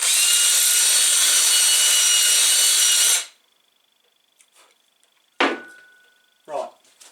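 A loud, steady drill whirs for about three seconds while smoothing a rough edge on a 110cc go-kart part, then stops abruptly, followed by a few short scraping and clinking sounds.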